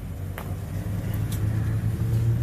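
Lincoln Town Car Cartier Presidential idling nearby, a steady low engine rumble that holds an even, deep hum throughout with a faint swell toward the end.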